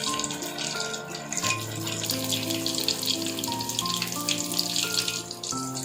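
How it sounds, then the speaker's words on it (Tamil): Fish frying in hot oil in a pan, a steady close sizzle and crackle that runs throughout without a break, with no voices. "ஒரு பக்கம் மீன் நல்லா வந்ததும் அடுத்த பக்கம் திருப்பி போட்டு வேக விடலாங்க."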